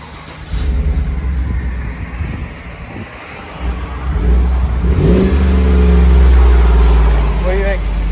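A Chevy Silverado with a 5.3L V8 and Flowmaster muffler exhaust idles roughly, then revs up into a loud, sustained roar that rises and holds before dropping back, with people talking nearby and some wind buffeting.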